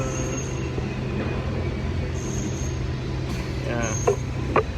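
Outdoor street ambience in front of Luxembourg City train station: a steady low traffic and engine hum with construction noise nearby, occasional brief clanks and faint distant voices.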